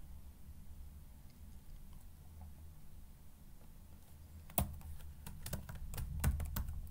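Computer keyboard typing while writing code begins partway through, a quick run of light clicks and taps over a low steady hum, close by and with no talking.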